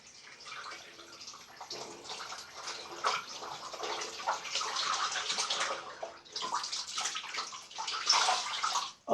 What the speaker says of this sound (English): I'm gonna rinse my cloth